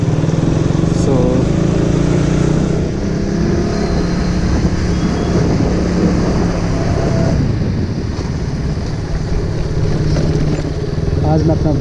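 A KTM motorcycle engine runs continuously, a low rumbling drone mixed with strong wind buffeting on the microphone, while someone talks over it throughout.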